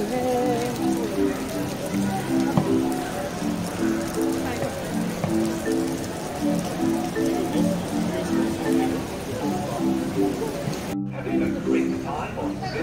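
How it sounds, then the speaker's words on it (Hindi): Heavy rain pours down in Singapore, a dense loud continuous downpour, while a voice is heard faintly beneath the roar. "बारिश शुरू हो गई फिर, झमाझम बारिश शुरू हो गई है।"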